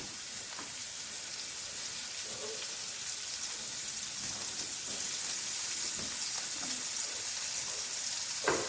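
Onions, garlic and red and green sweet peppers frying in a pan, a steady close hiss and crackle of sizzling oil throughout, with faint stirring sounds.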